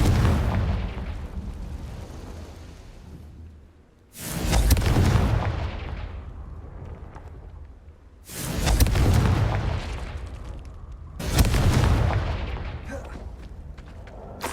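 Confringo blasting-spell explosions in the video game Hogwarts Legacy: three loud, deep booms with sharp onsets, each decaying into a rumbling tail, spaced about four seconds apart.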